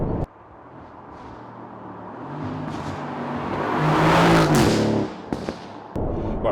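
An Audi saloon fitted with a Lamborghini V10 revs up through the gears, engine note climbing and swelling loud, then a sharp drop on the shift, followed by crackles and a renewed pull.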